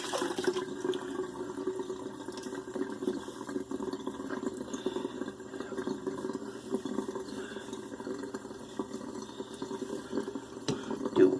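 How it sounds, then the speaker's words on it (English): Water drains out of a bathroom sink after a shave, a continuous soft gurgling and trickling rush that runs steadily throughout with a small clunk near the end. "Let the water out of the sink."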